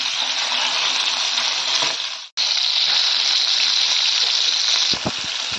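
Loud, steady sizzling of aar fish frying in hot oil for a Bengali fish curry fills the scene, broken by one brief gap, with a few soft clinks near the end.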